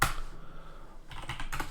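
Close keystrokes on a computer keyboard sitting right in front of the microphone, a few quick taps at the start and short bursts of typing near the end, with no talking.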